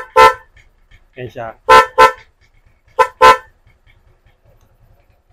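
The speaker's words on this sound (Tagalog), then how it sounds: "Pagka naman nakababa, siya. Stock horn siya." A Motorstar Easy Ride 125 motorcycle's stock horn honks repeatedly in short bursts, single and double toots, close and loud, with a brief spoken phrase between them.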